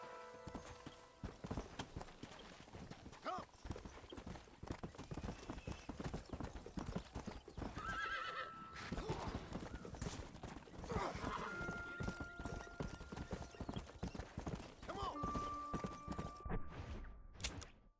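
Horse hooves clip-clop rapidly and steadily for a long stretch in the video game Red Dead Redemption, with occasional horse whinnies and faint mechanical sounds underneath.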